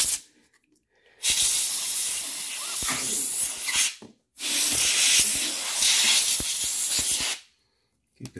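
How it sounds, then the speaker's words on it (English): Compressed air blowing dust out of the fan of a ThinkPad T570 laptop: two loud, close hissing blasts of about three seconds each, separated by a brief pause. "it's always good time to blow out the fan. Get any dust out of here. Make sure you're using air"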